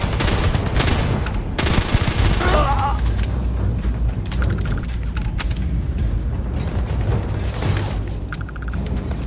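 Sustained bursts of assault rifle gunfire in the video game Starfield, loud and dense, with explosive booms and mechanical clatter running throughout.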